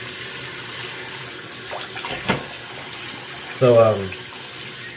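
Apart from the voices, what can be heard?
tap water running for rinsing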